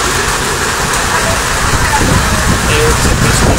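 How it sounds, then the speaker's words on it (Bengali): Heavy rain mixed with hail pouring down during a downpour, a loud dense continuous hiss and patter that swells slightly toward the end, with no clear voices. "বৃষ্টির গতি কমার কোনো লক্ষণ নাই, বরং মনে হচ্ছে বৃষ্টির গতি বাড়ছে।"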